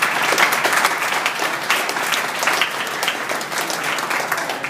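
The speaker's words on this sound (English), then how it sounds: "round of applause to the athletes and all their efforts" Sustained applause from a banquet audience for a cross-country team's athletes, steady dense clapping filling the room throughout with no voices on top.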